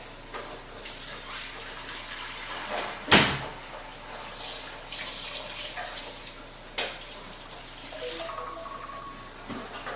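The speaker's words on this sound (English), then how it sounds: "So I have decided to put some cheesecloth inside of my strainer and do a second strain on it." Liquid from a whole smoked chicken is poured and strained through cheesecloth in a strainer, giving a continuous splashing, trickling flow with a sharp knock partway through and a few soft clinks near the end.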